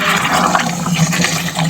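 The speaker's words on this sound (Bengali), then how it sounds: "এবার আমি গরম জলটা দিয়ে দেবো।" Hot water poured into a pan of cooking chicken kosha, a steady rushing pour close up that runs throughout, loud and continuous with no talking.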